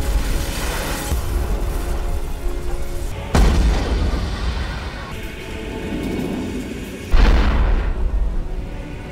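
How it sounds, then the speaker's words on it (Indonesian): Balloons burst inside a ship as a film explosion effect, with loud, deep booms cracking out at several points and rumbling debris and roaring noise filling the spaces between them, and no voices. "Balon-balon itu meledak di dalam kapal."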